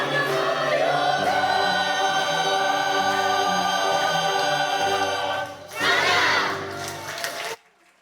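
Church congregation at a Sunday service applauding and cheering after a children's praise song, a dense crowd roar over sustained music that fades, swells again in a burst of clapping, then cuts off.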